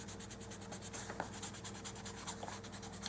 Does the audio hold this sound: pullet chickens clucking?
no